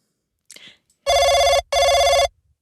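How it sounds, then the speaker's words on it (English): A telephone rings twice in long, loud, steady bursts separated by a short gap, preceded by a faint brief rustle. "just waiting for the phone to ring because usually a phone rings for about now"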